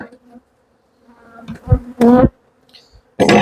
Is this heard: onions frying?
no